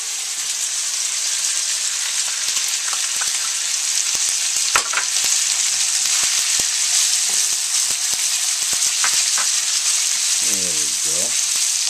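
Mushrooms stir-fry in a hot pan with instant ramen, pork, shrimp and vegetables, a steady loud sizzle with scattered pops and spatula clicks, and a brief voice near the end.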